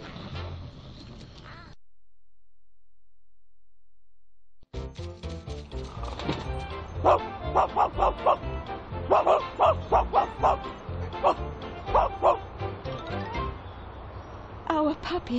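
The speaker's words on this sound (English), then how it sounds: "We sent out the twilight bark." Cartoon dogs barking in Disney's Animated Storybook: 101 Dalmatians game, a rapid chorus of many sharp yaps and woofs in quick bursts following a short silence, alongside music and voices.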